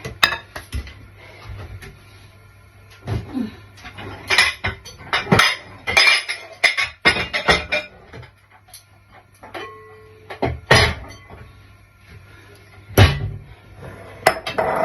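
Metal utensils clink and scrape against a bowl while puto cheese batter is mixed, a run of irregular close taps and rattles with brief pauses, no talking.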